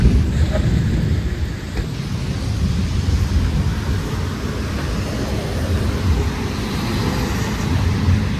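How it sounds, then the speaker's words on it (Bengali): Heavy rain pours steadily with a deep, rumbling low roar of thunder beneath it, continuous throughout. "এক ঘন্টার উপর হয়ে গেল বৃষ্টি থামছে না"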